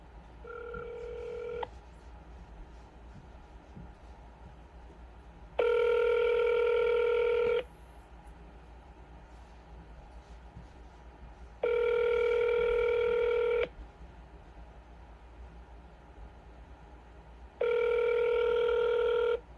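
A telephone rings back on an unanswered cold call, with four evenly spaced, steady electronic ring bursts about two seconds long separated by quiet gaps, heard through the handset.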